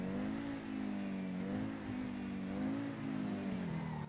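An Overflod Imorgon car revs in GTA 5 Online. The engine hum sounds like a petrol motor at low speed and swells and dips in a few short revving surges, with no voices over it.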